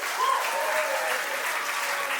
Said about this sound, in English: keep that round of applause going for Ella Peel coming back to the stage.